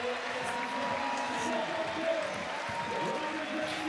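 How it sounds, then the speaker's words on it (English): At the Chamonix 2023 lead climbing finals, a crowd applauds and cheers as the winners are announced, a steady, fairly loud blanket of clapping and voices with an announcer talking over it. "But the crowd now starting to react"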